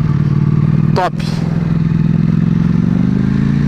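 A Ducati Panigale V4 S sportbike's V4 engine runs in a steady, droning hum, loud and close throughout, with a brief sharp scraping clatter near the one-second mark and a voice speaking over it.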